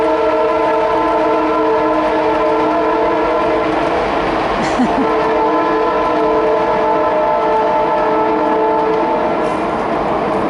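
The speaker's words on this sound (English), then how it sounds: "we'll give this train a minute to go by" A train rumbles past continuously with sustained horn-like tones, steady and loud throughout, with no voices.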